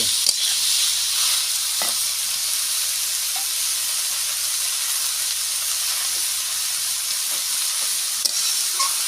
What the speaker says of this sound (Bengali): এবার দিয়ে দেবো লাউ